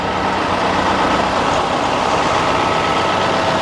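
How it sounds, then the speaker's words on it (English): Old tractors idling at the Cambridge County Show, a steady, loud, unbroken engine drone with a low rumble, close by and without speech. "A few old tractors here."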